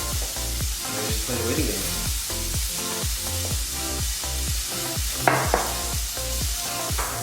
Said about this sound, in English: the pan is fairly hot because you want to get a nice crust on top of the crabs